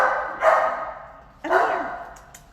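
A big, chunky brindle dog at an animal shelter gives two loud, close barks about a second apart, each tailing off into a drawn-out, slightly whining tone.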